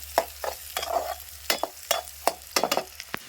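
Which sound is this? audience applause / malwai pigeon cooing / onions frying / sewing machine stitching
onions frying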